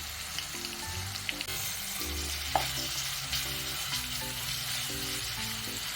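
Onion, curry leaves and green chillies fry in a pan with a steady close sizzle, light crackles and occasional stirring scrapes.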